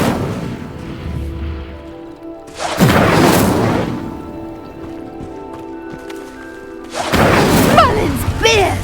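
Incendio fire spell from Hogwarts Legacy igniting pyres: two loud whooshing, crackling bursts of flame several seconds apart, each sustained for about a second, over a quiet ambient hum with low music.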